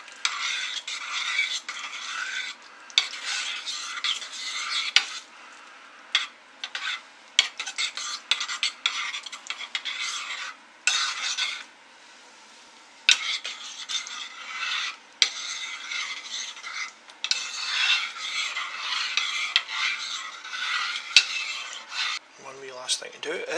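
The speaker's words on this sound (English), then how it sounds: "all I'm going to do is just stir that all the way through." A spoon stirs lamb curry in a pot, repeated bursts of close scraping and rubbing against the pot with brief pauses between strokes, ending with a soft clink.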